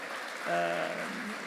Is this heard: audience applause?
yes